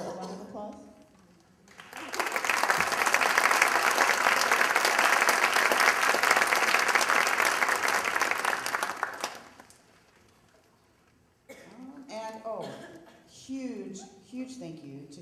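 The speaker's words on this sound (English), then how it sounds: "Sarah Buell, would you mind stepping out for a round of applause?" A concert audience gives a round of applause at a school string orchestra event, a loud sustained burst of clapping lasting about seven seconds before it fades, with a voice speaking before and after it.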